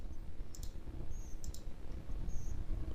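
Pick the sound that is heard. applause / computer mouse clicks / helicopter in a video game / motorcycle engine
computer mouse clicks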